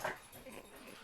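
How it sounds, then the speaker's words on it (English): A dog heard indoors close by lets out a short, loud whine or yelp, a single brief vocal burst rather than a series of barks. "the dog's barking."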